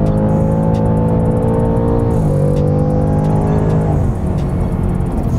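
A Ford Mustang Mach 1 muscle car revs hard through its sport exhaust, a loud, close, sustained engine roar that rises and falls in pitch across two throttle blips, with no talking.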